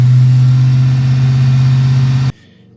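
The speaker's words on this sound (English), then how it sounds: "we are getting a high idle now" Car engine running at a high idle of roughly 1,500 to 2,000 rpm, a loud, close, steady drone with a strong low hum that cuts off abruptly near the end, leaving faint background.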